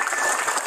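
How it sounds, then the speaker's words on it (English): A brief, dense burst of audience applause at a government proclamation signing, steady clapping from many hands with no voices heard. "Let's give a round of applause"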